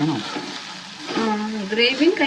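Soybean pieces fry in a hot pan with a steady close sizzle and crackle that swells louder in the second half, with some stirring and faint background voices.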